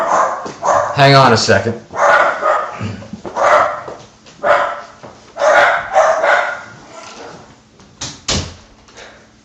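Pet dogs bark in loud, repeated bursts mixed with a person's speech, then a door shuts with a short thud near the end.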